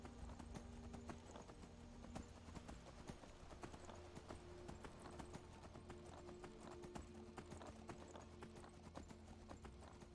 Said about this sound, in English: horses are really good at scaling mountains